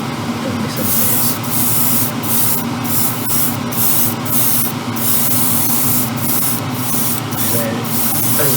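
Spray gun painting red bodywork on an Alpha Model Ferrari 812 Superfast kit, a steady airy hiss running throughout with regular short bursts of higher spray roughly every half second, close and loud.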